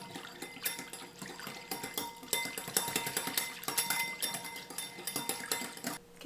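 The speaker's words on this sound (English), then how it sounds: "Just gonna whisk it together." A whisk beating maple syrup salad dressing in a bowl: quick, rhythmic clinks and scrapes of metal against the bowl, continuous and fairly close, with a brief pause near the end and no talking.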